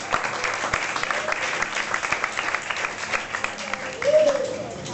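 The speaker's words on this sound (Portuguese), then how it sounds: "Palmas para Jesus mais uma vez." A church congregation applauds during a mission service at an Assemblies of God central temple in Brazil, with steady dense clapping throughout and a brief swell near the end.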